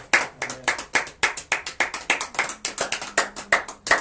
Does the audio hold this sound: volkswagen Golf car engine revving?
no